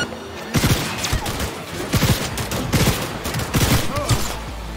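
Gunfire in the video game Cyberpunk 2077: several rapid bursts of loud shots in quick succession, booming and close, repeating over a few seconds.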